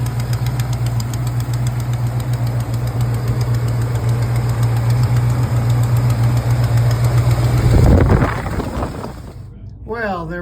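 A Dodge big block engine with an exhaust leak runs at a loud, steady idle rumble with a knocking tick, then cuts off sharply near the end, leaving brief clattering handling noises.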